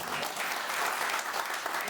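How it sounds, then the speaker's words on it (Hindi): Hall audience claps at a business income presentation, a steady, fairly quiet patter of hands that fills the whole moment with no break. "इसके लिए तो ताली बजनी चाहिए ना"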